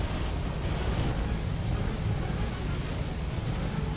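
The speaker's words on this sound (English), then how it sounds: "Fireballs, fire lines." Fireball explosions roar in Final Fantasy VII Remake combat, a dense continuous rumbling blast with no gaps and no talk.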